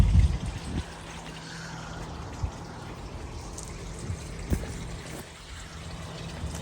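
Water poured onto potted trees as a natural fertiliser feed, a soft steady trickle and splash running for several seconds with a few small knocks, fairly quiet and close.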